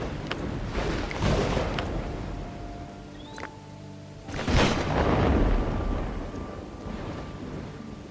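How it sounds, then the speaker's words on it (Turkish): Thunderstorm in the video game Dawn of Man: steady rain with two loud rolling thunderclaps, one early and one near the middle, plus a few faint tonal game sounds over the downpour. "Fırtına geldi."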